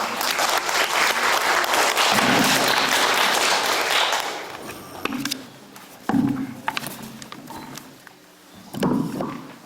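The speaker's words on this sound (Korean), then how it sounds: "나오실 때 박수로 맞이해 주시기 바랍니다" An audience at a church elders' lecture gives loud, steady applause to welcome an elder coming forward. The clapping thins out after about four seconds, giving way to scattered taps, thumps and brief voices.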